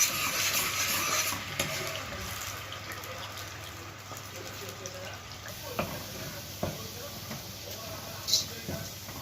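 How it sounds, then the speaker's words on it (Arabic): Garlic fries in a pan as tomatoes are added for an Egyptian koshari sauce, with a soft steady sizzle, stirring scrapes and utensil clinks under a voice. "هنخلي التومه تاخد تحميره كده ونحط الطماطم"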